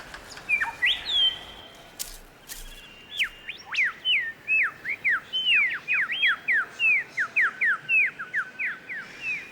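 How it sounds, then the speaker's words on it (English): A superb lyrebird calling in dry forest, a long run of rapid, ringing whistled notes repeated in a steady rhythm, clear and fairly close with no voices. "it doesn't stop the display of a very special bird. The superb lyrebird."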